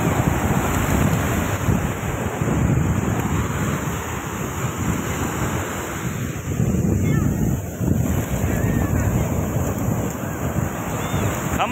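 Sea waves at Vakkada beach in Andhra Pradesh wash in a constant broad roar with heavy wind buffeting the microphone, loud and near throughout, with faint voices in the background.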